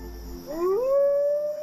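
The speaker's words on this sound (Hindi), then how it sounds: "ये क्या है, कुत्ता है?" A dog howls at night in a Hindi film scene, one long rising wail that swells and holds steady, heard clearly and alone without talk.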